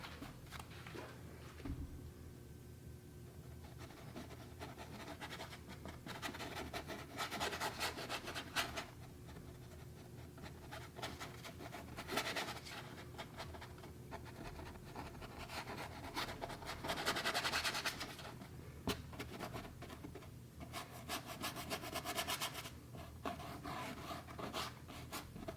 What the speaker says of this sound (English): I'm just gonna do a quick